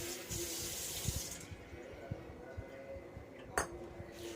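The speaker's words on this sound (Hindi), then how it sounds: "एक कटोरी में पानी रख लेंगे।" Water goes into a small bowl in a home kitchen during chandrakala preparation, with a short trickle followed by scattered clinks and knocks of utensils and dishes, fairly quiet and with no talking.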